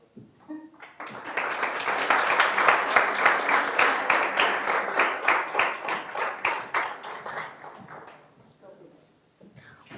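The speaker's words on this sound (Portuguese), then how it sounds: "Uma grande salva de palmas a todas estas pessoas que contribuíram para esta Assembleia Municipal." Sustained applause and clapping from an audience at a youth municipal assembly session in Lourinhã, loud and steady for about seven seconds before fading, with faint talk at the edges.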